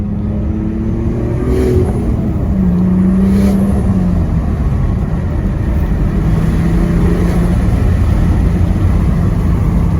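A turbocharged car cruising produces a loud, steady engine drone that stays even the whole time, with faint whistling tones rising and falling over it and no voices.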